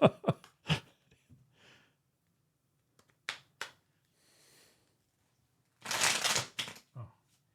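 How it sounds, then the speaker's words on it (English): Tarot cards being shuffled in a quiet room: a few quick crisp riffles and taps, then a longer bursting riffle near the end, close and separated by silence. "hate it when I mess up a shuffle"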